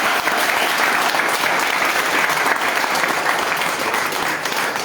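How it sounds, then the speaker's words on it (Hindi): A seminar audience bursts into dense, sustained applause, loud and steady throughout with no pause, many hands clapping together in a large hall. "इनके लिए ताली मांगूंगा"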